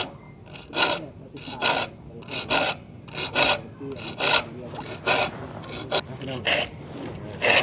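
Steady back-and-forth rasping of a hand saw cutting through wood, about a dozen strokes in an even rhythm, close by with no talking.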